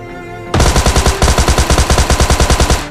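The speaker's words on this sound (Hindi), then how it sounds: "तब सामने से फायरिंग आती है मुझे शॉटगन की" Video game gunfire erupts suddenly after a quiet moment, a loud rapid string of about fifteen closely spaced shots in a steady rhythm.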